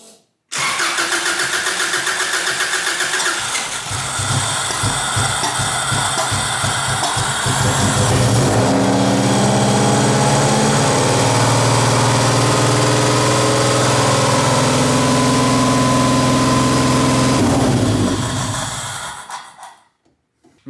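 A Ford Festiva, a cheap project car being converted to AWD for off-road use, cranks and catches, then runs loud and rough for about seventeen seconds before shutting off, with no talking over it.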